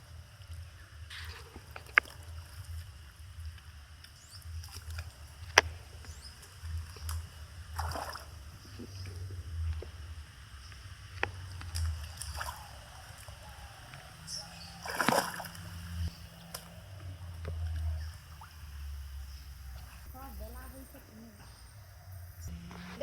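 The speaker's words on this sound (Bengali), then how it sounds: "দেখুন কীভাবে গেড়িগুলো তুলতেছি এই পুকুরে জলে নেমে" A person wading in a village pond while gathering freshwater snails makes intermittent splashes and sloshes of water, close and irregular, over quiet outdoor background with occasional brief knocks.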